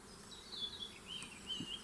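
Agitated honeybees buzz around hive frames during a check of queen laying, a faint, steady swarm drone with thin whining tones drifting over quiet background.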